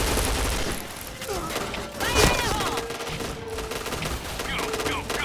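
Rapid automatic gunfire in a shooter video game, dense bursts with a sharp louder blast near the middle, game announcer voices and player chatter mixed in throughout.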